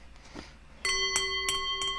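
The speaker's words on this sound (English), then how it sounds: "There's the warning bell." A bell rings out with a sustained metallic tone, struck a few times in quick succession after a short quiet lead-in.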